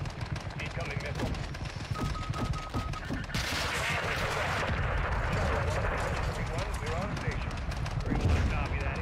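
Dense gunfire and heavy blasts from an incoming missile attack in the video game Modern Warfare 2, a loud continuous barrage with a sharp surge of explosion noise partway through, voices talking underneath.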